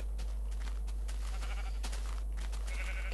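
Several sheep bleat in a Minecraft game, their calls overlapping in short repeated bursts at moderate loudness with no voices.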